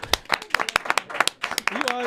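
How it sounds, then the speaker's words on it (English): A small audience at a live event claps briefly for a man named Joe. The claps are sparse and uneven, mixed with voices talking over them. "Can we clap for Joe?"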